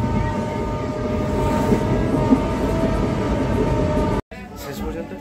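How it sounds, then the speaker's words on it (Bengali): Katwa-Howrah galloping local train running steadily, a loud continuous rumble of wheels and carriage noise heard close from inside near the door, with a brief cut near the end. "শেষ পর্যন্ত পেয়েছি কাটোয়া হাওড়া গ্যালোপিং লোকাল।"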